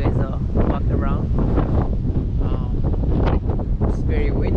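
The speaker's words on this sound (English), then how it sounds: "It's very windy outside today." Gusty wind buffets the microphone in heavy low rumbles outdoors beside a 2020 Kawasaki Z900 motorcycle while a person talks over it.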